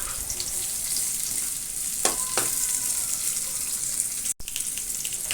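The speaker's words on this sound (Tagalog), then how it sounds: "Pa-golden brown natin para mabango." Garlic and onion sautéing in a pan for a kangkong stalk dish, a continuous hiss of frying with a couple of stirring scrapes and a brief dropout near the end.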